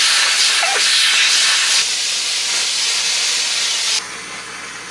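Air compressor releasing built-up pressure in one steady, loud hiss that runs almost five seconds and drops in level near the end.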